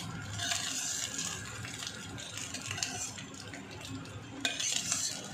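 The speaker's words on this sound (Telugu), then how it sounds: "ఇప్పుడు మనం దీన్ని తీసేద్దాం ప్లేట్లోకి." Egg fried rice is scooped and scraped from a pan onto a plate, with repeated utensil scrapes and faint sizzling, close and fairly quiet.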